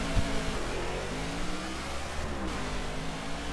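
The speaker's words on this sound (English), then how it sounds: "let's shift into first here and get it going" A stock race car engine in the NASCAR The Game 2013 racing video game hums steadily at mid pitch after shifting into first gear, a constant rough drone with slight rises in revs and no talking over it.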